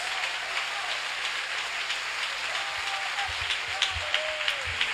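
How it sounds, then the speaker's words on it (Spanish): Congregation applause in a church service, a broad steady wash of clapping, fairly distant and even, with a few louder claps near the end. "Dale ese aplauso fuerte a la gloria de Dios."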